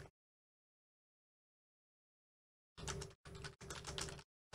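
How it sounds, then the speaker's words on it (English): Quick bursts of typing on a computer keyboard, dense clattering keystrokes in three short runs after a long silence, close and fairly faint. "sometimes I'm gonna go silent because I'm just typing"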